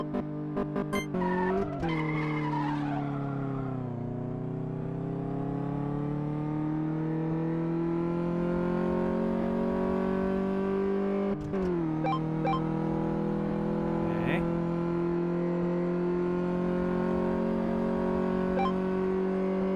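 A car in Car Mechanic Simulator 2015 accelerates with a steady engine drone that rises in pitch through gear changes, marked by abrupt shifts and a brief squeal, loud and continuous throughout.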